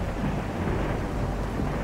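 Thunderstorm with heavy rain, a dense continuous roar of rainfall with deep low rumbling underneath, loud and steady throughout, with no voices.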